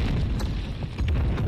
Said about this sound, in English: I threw three damn explosives.